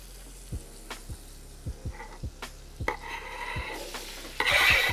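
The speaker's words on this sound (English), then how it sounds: "And go those peppers and onions" Peppers and onions sizzle in butter in a skillet, with a steady fry under a series of sharp utensil taps and scrapes against the pan that swell into a louder burst of sizzling near the end.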